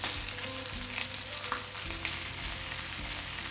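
Fish frying in a pan of lemon butter sauce sizzles steadily and close, with soft scrapes and clatter as the fillet is flipped partway through.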